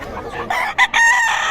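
A rooster at a poultry seller's in Bocaue, Philippines, crows once, loud and close, a stretched harsh call with a brief break in the middle.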